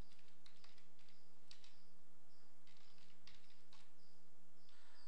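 Someone types code on a computer keyboard, giving light, close clicks in short irregular bursts over a low steady hum.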